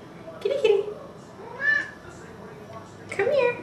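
A house cat meows three times in short, rising calls spaced about a second apart, close to the listener, with no talking over them.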